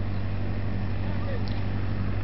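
A motor pumps water at a newly opened village well, giving a loud, continuous low droning hum throughout, with voices faintly present in the background.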